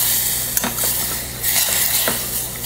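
Chocolate chips being stirred into hot liquid for ganache in a pot, a continuous close hiss with scattered scraping clicks of the spoon against the pan.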